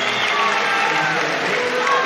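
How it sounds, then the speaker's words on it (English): A packed arena crowd at a Japan volleyball match roaring and cheering in a steady, loud wash of noise, with a commentator's voice faintly mixed in. "The crowd go crazy."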